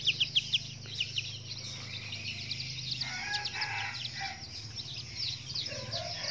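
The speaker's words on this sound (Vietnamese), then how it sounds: "Đây này, đó gà rừng đẹp này," Young jungle fowl chicks peep in quick high chirps throughout, joined by clucking and fuller calls from adult fowl nearby, over a steady low hum.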